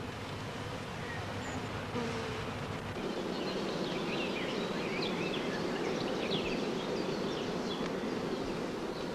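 A honey bee colony buzzes steadily at an opened hive, a dense, continuous drone of many wings that holds close and even throughout with no break.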